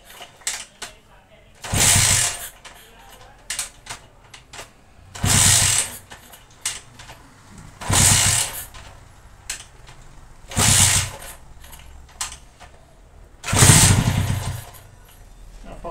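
A small motorcycle engine powers a generator and runs on its carburetor alone without added throttle. It idles steadily and is close, with louder rattling bursts every few seconds, while someone talks over it.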